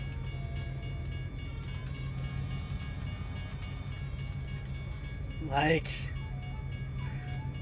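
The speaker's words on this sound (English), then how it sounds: "Then as the light turned green, there was another train. This is the 3rd train since we've popped in here" A train passes at a distance with a steady low rumble, and a horn sounds once partway through, while a person talks over it inside a vehicle on the road.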